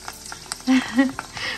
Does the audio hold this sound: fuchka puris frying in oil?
yes